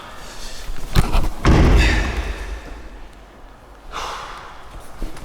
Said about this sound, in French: la porte la plus lourde du monde